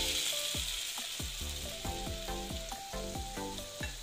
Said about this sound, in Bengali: এই দেখো তেলের মধ্যে দিয়ে দিচ্ছি।